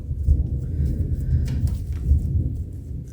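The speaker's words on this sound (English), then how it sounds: "can you hear that thunder? We got a nice rainstorm going." Deep, low rumbling of thunder rolls on continuously beneath a soft hiss of rain, with no voices.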